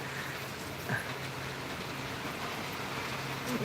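Steady midday rain falls in Mumbai as a soft, even hiss of drops with a faint low hum underneath and no voices.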